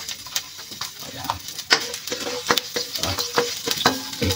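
Garlic and onion sauté in hot oil for a tuna-jaw tinola, with a steady close sizzle broken by repeated scraping clanks of a ladle stirring the pan.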